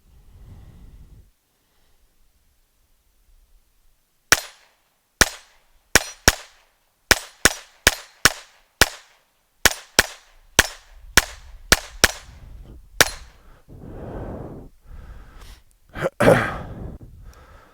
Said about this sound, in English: Let's do some rapid successions and see how often I can hit that 4-inch plate out of 16 shots.